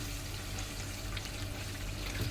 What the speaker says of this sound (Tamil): இப்போ இந்த நேரத்தில் நம்ம தண்ணி சேர்த்துக்கலாம்.